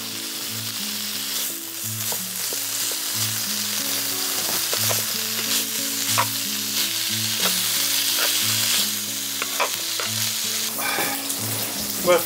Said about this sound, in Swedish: Jag försöker steka lite sån här potatis.